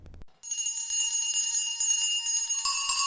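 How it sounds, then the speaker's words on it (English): Many house bells ring together as a stage play sound effect, a bright sustained jangling chorus of overlapping tones that swells louder near the end, heard alone after a brief soft sound. "Every bell in the house must be ringing."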